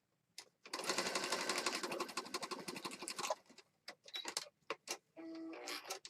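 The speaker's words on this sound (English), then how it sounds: "we're going to stitch across the top and the bottom of this notes" Sewing machine stitching across a junk journal page, a rapid, loud close-up clatter for about three seconds, then several short stop-start bursts of stitching with pauses between.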